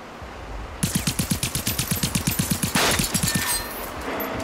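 A gun fires a fast automatic burst in the video game Generation Zero, with sharp evenly spaced shots that are loud and close, a short pause, then a few more rounds that fade into a low hum.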